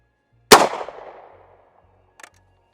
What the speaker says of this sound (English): Again, just a blank demonstrating that she does shoot.